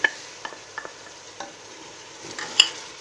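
A soft, steady frying sizzle of ginger, garlic and green chilli paste in a pan for haleem, with scattered scraping taps of a spoon stirring, close and moderately quiet.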